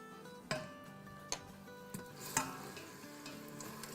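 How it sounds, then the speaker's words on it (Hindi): Ginger, garlic and green chili paste fries in a pan, giving a faint steady sizzle broken by a few sharp ticks of a spoon stirring against the metal. "थर्टी सेकेंड तक ही फ्राई करना है।"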